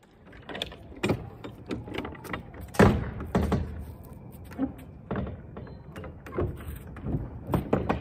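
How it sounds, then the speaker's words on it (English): The doors of a semi truck on an over-the-road trip are shut, giving a series of muffled thunks and clunks spread irregularly across a quiet cab. "I'm going to close my doors"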